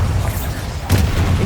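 A Bombarda spell blast in the game Hogwarts Legacy, a short loud boom that bursts out sharply near the end of a brief clip over a low rumbling game backdrop.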